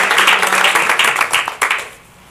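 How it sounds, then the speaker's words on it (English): An audience claps for the parents at a county board of education meeting, a dense burst of applause that fades out near the end. "So let's give applause to the parents."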